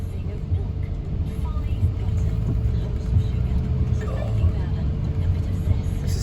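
A car drives at night along country roads in the UK during an extreme storm, with a steady engine drone and road roar, rain and wind noise washing over the cabin.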